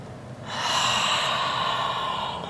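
Slow, steady breathing during a yoga exercise, a long airy breath sustained for about two seconds after a short quiet start, close and fairly soft, with no talking.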